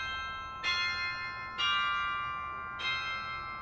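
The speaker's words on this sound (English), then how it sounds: "one way to play major chords on bells and minimize the clashing of overtones is simply to play those major chords on higher bells" Small high tower bells sounding a major chord, struck three times at uneven intervals, each ringing clear and sustained with long shimmering decay.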